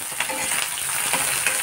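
Sliced onion and curry leaves fry in a pan for a spicy Maharashtrian tondli masala. A constant close hiss carries several light scraping stirs.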